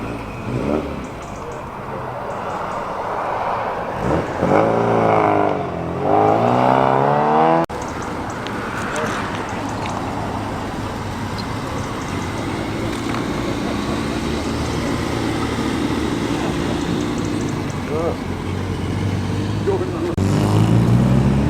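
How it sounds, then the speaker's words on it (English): A 1967 or early 1968 Austin Healey Sprite classic car pulls away at a road run in Nantwich, Cheshire, its engine rising in pitch then settling into a steady drone, with crowd noise and a voice speaking over it. "Next to depart, one of the Austin Healey Sprites from 67 or early 1968."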